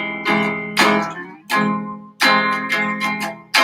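Strummed guitar chords in a choppy rhythm, bursts of ringing strums cut short between hits, loud and close with no voices.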